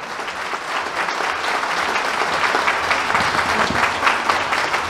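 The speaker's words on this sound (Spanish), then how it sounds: "Un aplauso, por favor." Steady applause from a crowd at a community vote count, dense clapping that holds at an even level throughout without pause.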